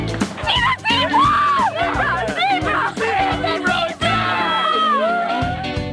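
A gathering crowd of onlookers in a residential street whoops, yells and laughs during a loose zebra chase, with loud, dense overlapping voices and excited shouts throughout.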